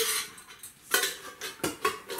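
Metal camping cook set pieces, a pan, a small pot, a gas burner and a folding cup, clink and rattle as they are handled and packed for a six-day trekking trip, in several short close bursts with quiet gaps.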